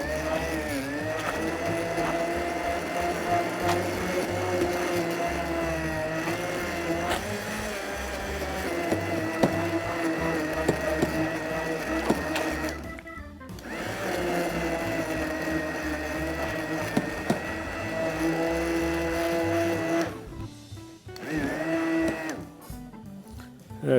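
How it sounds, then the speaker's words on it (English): A blender grinds strawberries and apples while soup is made, giving a loud continuous whirring drone that changes pitch as the load shifts. Two brief cutoffs interrupt it, and it carries on alone without talk. "At this point, you want to find the apple and let the blender grind it up."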